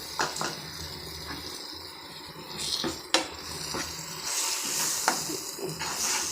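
A pan sizzles and hisses steadily as a ground paste of fennel, coconut and roasted gram fries, while a utensil scrapes and clinks against it now and then, close by with no talking.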